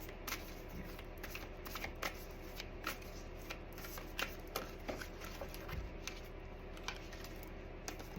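Tarot cards being shuffled and handled in a quiet room, a soft run of riffling and flicking with scattered sharper snaps, faint and steady throughout with no talking.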